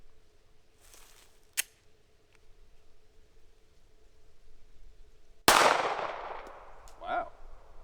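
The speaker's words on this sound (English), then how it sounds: "So now for 5 rounds of the Sergeant Major Munition 380 ACP" Two sharp reports from a Sergeant Major Munition .380 ACP pistol, a lighter crack early and then a loud nearby blast that rings out and decays over a second.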